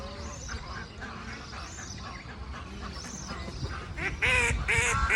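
A large flock of birds calls at once, duck-like quacks and honking cries overlapping in a constant noisy chorus that grows louder and sharper near the end.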